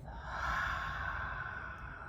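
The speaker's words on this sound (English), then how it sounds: "breathing out, exhale out the mouth" A single long, audible exhale through the mouth, close and breathy, rising then slowly fading over about two seconds during a Reiki relaxation exercise.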